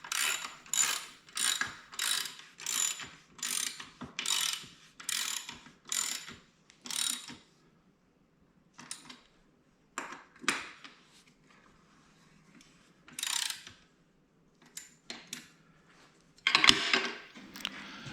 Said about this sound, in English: we only tighten the front screws at this time